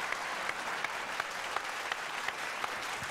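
A studio audience at a comedy talk show applauds steadily, a continuous even wash of clapping with no pauses throughout.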